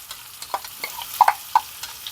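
Onions and green chillies frying in a pan for stuffed eggplant, with a soft sizzle beneath a few sharp spoon taps and scraping clicks as they are stirred.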